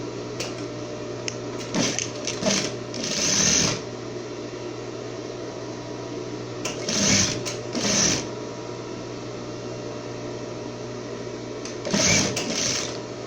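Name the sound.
sewing machine stitching a half-centimetre seam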